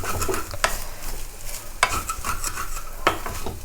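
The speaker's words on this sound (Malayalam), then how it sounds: "ചിക്കൻ ഇട്ട് കൊടുത്തിട്ട് നന്നായിട്ട് അങ്ങ് മിക്സ് ചെയ്യുക." Ground chicken fries with a steady sizzle in a pan while a utensil stirs it, striking the pan with sharp clinks about every second, close and fairly loud, no voices.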